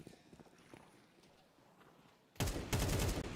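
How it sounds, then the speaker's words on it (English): A burst of rapid gunfire in a Counter-Strike esports match at IEM Cologne breaks in loudly near the end, following quieter game ambience and faint footsteps. "So Shiro lies in wait to rack up some eco frags, mows him down, just gets the 1"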